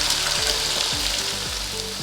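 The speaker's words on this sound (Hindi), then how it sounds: "तेज़ आंच पे ही हम प्याज फ्राई करेंगे" Four large, finely chopped onions fry over high heat in hot oil in a kadhai, giving a steady, close, loud sizzle that runs unbroken throughout with no talking.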